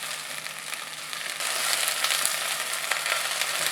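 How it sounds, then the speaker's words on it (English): Okra pieces fry in hot oil over a high flame in a pot, giving a steady, dense sizzle that swells louder partway through and holds without any talking. "We're going to fry the bhindi on high flame till it turns brown."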